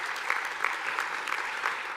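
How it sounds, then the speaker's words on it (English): A university welcome-day audience gives a brief burst of steady clapping that fills the hall at moderate volume. "I think that deserves a round of applause."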